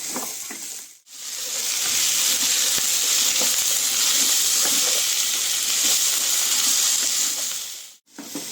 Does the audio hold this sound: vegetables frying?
yes